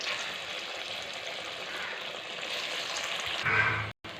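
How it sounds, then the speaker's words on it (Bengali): Koftas dropped one by one into hot oil in a wok, giving a steady hissing sizzle at moderate loudness, with a brief clatter and a short break near the end, no speech. "এবার তেলটা গরম হয়ে গেছে। এবার আমি একে একে কোপ্তাগুলোকে কড়াইয়ের মধ্যে দিয়ে দিলাম।"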